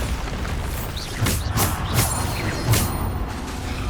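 Repeated booming bursts of magic spells in combat in the video game Hogwarts Legacy, several loud blasts at irregular intervals over a rumbling battle background.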